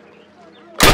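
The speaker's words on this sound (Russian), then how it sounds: "Подойди к ограждению и сделай 6 выстрелов по мишени." A single carbine shot fired at a target in the Call of Duty video game, one loud sharp crack at the very end after a brief quiet lead-in.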